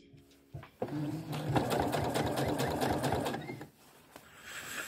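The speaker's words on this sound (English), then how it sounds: "you're going to take a stitch line just on the facing, not through the skirt" A sewing machine runs a stitch line along the facing of a wrap skirt, a close rapid mechanical whir and clatter that starts after a few soft handling sounds and stops after about three seconds.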